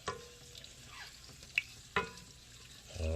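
A spoon stirs collard greens in a pot, with bourbon just added. There are a few soft scrapes and clinks against the pot and faint sizzling underneath, quiet and close.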